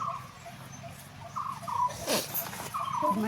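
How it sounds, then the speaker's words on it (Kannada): A dog gives faint, wavering, whining howls from a distance, in a few short cries against a quiet outdoor background. "ನಾಯಿ ಕೂಗ್ತಾನೆ ಇದು"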